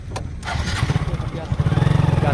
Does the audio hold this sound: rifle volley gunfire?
no